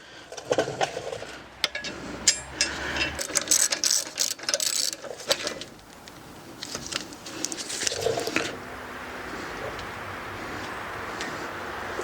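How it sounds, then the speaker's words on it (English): Ratchet wrench clicking as wheel bolts are tightened on a car fitted with new Weld wheels and a Brembo brake kit, loud bursts of rapid pawl clicks with metallic clanks, then a steadier hiss toward the end. "I'm going to bolt down that wheel, make sure these are all going to work fine."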